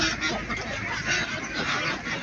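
Ducks squabbling on a large duck farm, a dense, continuous chorus of honking and quacking from a nearby flock, with no pause across the short stretch.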